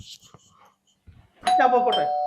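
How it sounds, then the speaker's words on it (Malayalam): Doorbell at a house, a single bright ding-dong chime that rings out clearly and sustains near the end, after brief murmurs and shuffling sounds. "കോളിംഗ് ബെൽ അടിക്കണ്ട"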